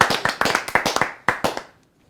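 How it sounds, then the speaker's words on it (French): A small group clapping loudly in bursts on a television show, sharp uneven rounds of hand claps that stop abruptly and leave silence. "On applaudit très fort."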